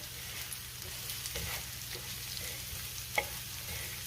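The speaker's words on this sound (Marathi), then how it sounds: "शेंगदाणे घातल्यावर पण मी 1 मिनिटभर चांगलं परतून घेतलेलं आहे" Green chilli kharda with coarsely crushed roasted peanuts sautéing in a pan, a soft, steady sizzle over a low hum with a few gentle stirring scrapes and one sharp clink of a utensil.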